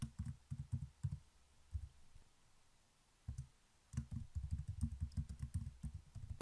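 Rapid keystrokes on a computer keyboard, soft and close, coming in quick bursts with short pauses between runs of typing and no talk over them.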